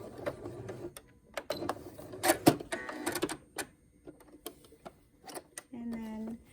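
Sewing machine running short back-and-forth bursts of stitching while back-stitching the end of a seam on a fabric surgical mask, close and fairly quiet, with soft clicks between runs and a person talking nearby.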